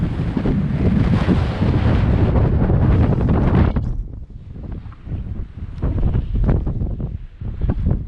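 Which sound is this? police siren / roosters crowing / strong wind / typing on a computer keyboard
strong wind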